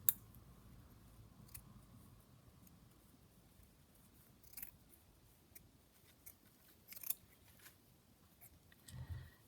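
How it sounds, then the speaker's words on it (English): Scissors snip through a fabric seam during junk-journal crafting, a few faint, sparse cuts and clicks spread across an otherwise quiet stretch. "Just cut the seam off from the bottom."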